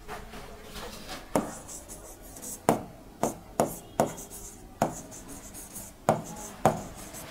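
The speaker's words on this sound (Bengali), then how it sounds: "আমরা নামটা লিখে নিই" Marker or chalk writing a name on a board, a series of sharp taps and short scratchy strokes at irregular intervals, close and clear over faint room noise, no talking.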